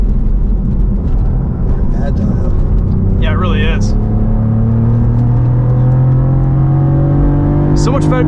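A 2024 Cadillac CT4-V Blackwing Arrival Edition driven on a race track, with a loud, continuous engine drone from inside the car whose pitch climbs steadily as it accelerates, and a few brief higher squeals over the top.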